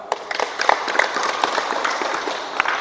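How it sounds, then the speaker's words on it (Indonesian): Applause from a small group after a class presentation, a short burst of scattered, uneven clapping at close range, holding steady before tapering off. "Tepuk tangan dulu dong."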